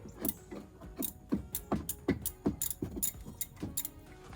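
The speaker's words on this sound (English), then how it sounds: "You will need your 14mm ratchet" A 14mm ratchet clicks in quick, regular bursts while loosening the brake caliper bolts on a 2008 Toyota Camry during a rear brake pad change, a close, crisp mechanical ticking with no talk.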